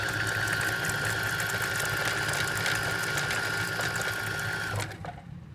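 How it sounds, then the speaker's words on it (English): A Viking sewing machine winds a bobbin with a steady, loud motor whir that runs evenly for about five seconds and then cuts off as the pedal is released. "Once you put your foot pedal down, it's going to start winding your bobbin"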